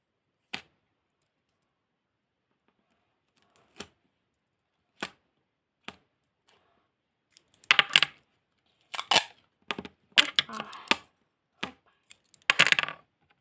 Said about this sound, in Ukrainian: І ріжемо на маленькі кусочки.